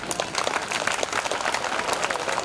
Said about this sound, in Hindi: एक बार आप लोग अपने लिए तालियां बजाइए साहब